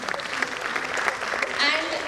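Audience applause at a school annual day event, a steady wash of clapping from a hall crowd welcoming the principal on stage, moderately loud and sustained for the whole stretch.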